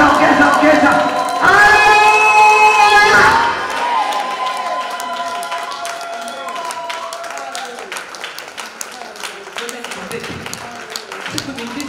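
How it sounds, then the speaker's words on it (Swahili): A church congregation at a Friday morning worship service bursts into loud clapping and cheering for Jesus, then settles into steady rhythmic hand claps while a voice speaks over it. "Ongeza tena makofi kwa Yesu."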